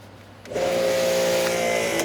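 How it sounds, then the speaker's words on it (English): A pressure washer for car detailing starts up after a quiet moment, its motor rising into a steady, loud droning hum that holds close by for over a second before easing off. "let me go ahead and get my pressure washer all ready"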